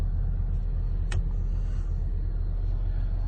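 The engine of a 2011 Jeep Grand Cherokee idles in a low, even rumble, with a single short sharp click partway through and no talking.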